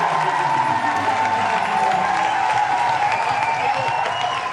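Crowd applauding and cheering, loud continuous clapping with excited voices and shouts mixed in, sustained at an even level throughout.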